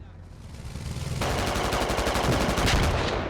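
Gunfire and an RPG striking a BTR armored vehicle in the military shooter game Squad: a dense, loud burst of rapid shots and an explosive hit, the roar kicking in about a second in and continuing steadily to the end.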